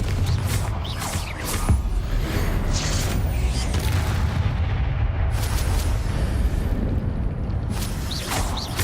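Repeated fiery Confringo spell blasts in the Hogwarts Legacy video game, a dense run of booming explosive bursts with rumbling low end, loud and continuous throughout, with no talking.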